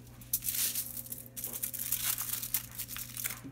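Close, continuous crinkling and rustling of wrapping as a homemade sausage breakfast burrito is folded over and rolled up for freezing, with sharper crackles at moments over a low steady hum.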